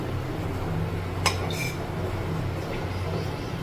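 A cooking pan is set down on a kitchen stove with one short metallic clink, followed by a fainter clatter, over a steady low background hum.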